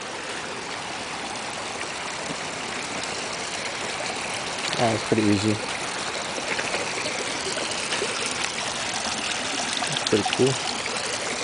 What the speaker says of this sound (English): I'll try to walk across the water.